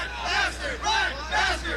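A crowd at a live event chants in rhythmic surges, three swelling bursts of massed voices roaring in unison with brief dips between them, fairly loud and distant-sounding.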